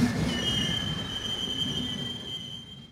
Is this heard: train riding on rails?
yes